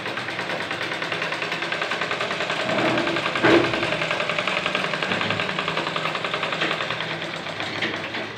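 Several sewing machines run together in a women's sewing and embroidery training centre in Sagwara, giving a steady mechanical whir with fast rhythmic stitching and a brief louder clack midway, with no talk over it.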